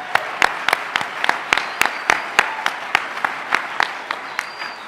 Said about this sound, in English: a quick round of applause for you guys